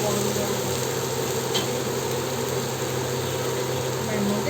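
Spice paste (masala) for lentil fritter curry sizzles steadily in oil in a pan, a continuous close hiss with a low hum beneath, no talk over it.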